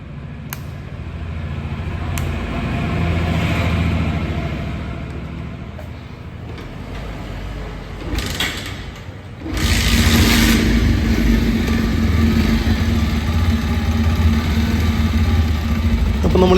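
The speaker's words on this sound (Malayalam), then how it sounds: "നമുക്കൊന്ന് കിക്ക് ചെയ്ത് സ്റ്റാർട്ട് ചെയ്ത് നോക്കാം." A 2024 Bajaj Pulsar 125 Carbon motorcycle with a weak battery takes a few scuffing kicks, then catches and settles into a loud, steady idle close by, with no talk.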